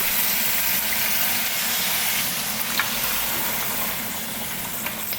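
Water pours into a pot of oxtail in a home kitchen, a steady close rushing hiss lasting the whole time, with a couple of faint clinks.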